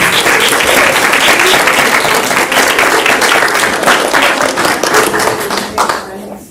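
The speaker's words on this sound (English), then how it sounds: "so we can give you a round of applause" Sustained applause from a crowd at a school board meeting, dense steady clapping that holds loud for several seconds before tapering off at the end.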